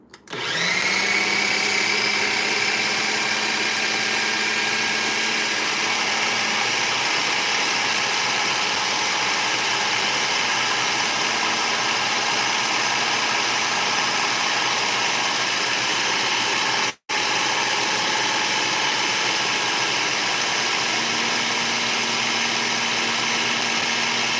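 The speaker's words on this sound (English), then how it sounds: "I'm going to puree this real quick. Pause for the noise." A blender purees a cottage cheese dough into a smooth mix, a loud steady motor whine that runs almost nonstop for about 24 seconds, with one brief cutout near the end.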